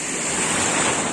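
A whitecap wave breaking on Kỳ Anh beach in Hà Tĩnh, a steady close wash of surf with wind noise on the microphone and no talk.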